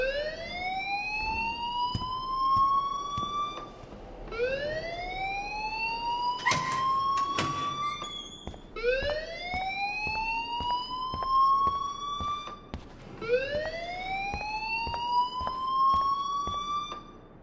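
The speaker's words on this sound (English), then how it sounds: "please turn off that alarm since that's your job" An alarm blares in the video game Life is Strange, rising whooping siren sweeps repeating about every four seconds, loud and steady over a faint busy background, with no talking.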